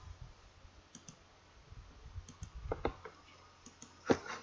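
A few sharp computer mouse clicks while building a virtual pet project in Scratch 3.0, faint and sparse against a quiet background with one louder click near the end.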